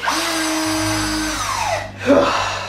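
Power drill in a video game whirring with a steady high tonal whine that glides downward as it slows, then a second short burst of drilling, loud and close with no talk.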